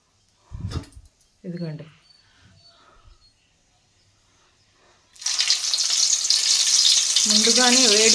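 Masala-stuffed bitter gourds drop into hot oil and burst into a loud, bright, continuous sizzle that fills the second half, after a quiet opening with brief speech and a few handling knocks; a voice talks over the frying near the end.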